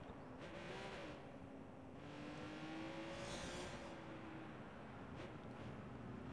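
A Ferrari engine in the video game Watch Dogs 2, a continuous mid-level engine drone whose pitch rises and falls gently as the car drives, with a steady rushing road noise beneath it.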